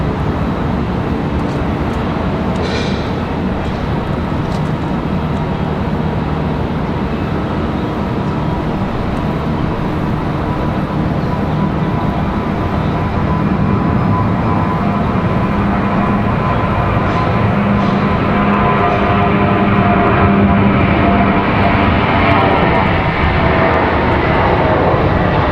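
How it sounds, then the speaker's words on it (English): An American Airlines Boeing 737 departs Raleigh Durham airport for Miami, its jet engines giving a loud, continuous roar that swells slightly toward the end, heard alone without voices. "That last departure is headed to Miami. That American"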